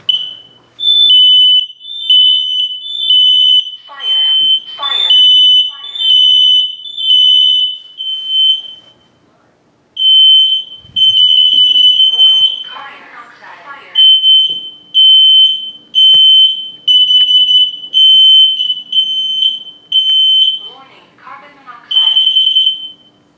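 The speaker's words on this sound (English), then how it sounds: "now for these carbon monoxide detectors in the house" A household carbon monoxide detector under test sounds loud, piercing beeps in repeated bursts with brief gaps, while people talk in between and over the alarm.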